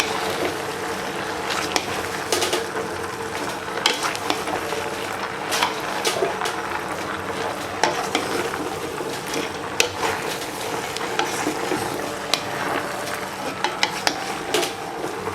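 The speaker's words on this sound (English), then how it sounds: "we're going to mix them, throw them around in the pan just for like another 3 to 4 minutes" Chickpeas are stirred and tossed in a pan of chicken curry, giving a continuous low sizzle broken by frequent scraping clicks of a utensil against the pan, close and steady with no talk.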